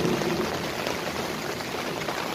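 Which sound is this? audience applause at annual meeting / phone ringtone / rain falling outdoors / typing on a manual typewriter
rain falling outdoors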